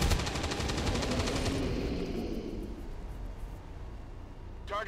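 Gunfire in the video game XCOM 2, a loud rapid burst of shots at the start that gives way to a lingering rumbling tail and fading echo, with a brief sharp click at the very end.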